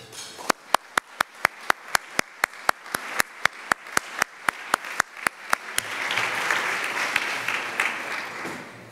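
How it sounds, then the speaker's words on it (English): Luncheon audience at the 2018 World Leadership Forum, opening with a few sharp, evenly spaced claps that swell into broad, sustained applause from the room. "I hope you'll give a strong applause to Lord Howell"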